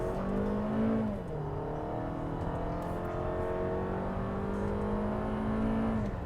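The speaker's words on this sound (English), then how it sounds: "I cannot help but floor this car." 2020 Toyota RAV4 engine at full throttle, a loud sustained drone rising in pitch with a brief dip as a gear changes, heard close from inside the cabin.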